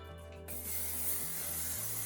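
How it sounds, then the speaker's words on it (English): Pantene hair spray hissing steadily onto hair in a short, continuous spray burst that starts abruptly after a quiet moment and holds at an even level. "I always finish it with the Pantene air spray"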